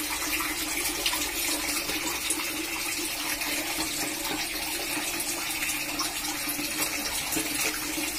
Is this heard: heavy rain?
no